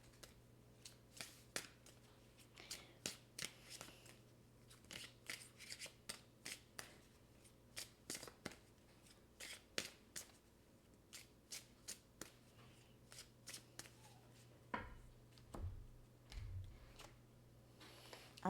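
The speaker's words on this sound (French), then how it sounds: "Je vais regarder avec mes cartes," Tarot cards shuffled by hand at close range, a run of crisp irregular riffles and slaps repeating for several seconds over a steady low hum, with no talking.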